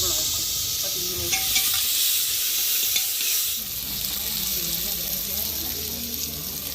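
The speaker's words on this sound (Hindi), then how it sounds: "दाल अच्छी तरीके से पहले दाल बढ़िया से भुन जाओ बस" Chana dal sizzles in a pan while being stirred during home cooking, a loud steady frying hiss with scraping stir strokes scattered through it and no speech.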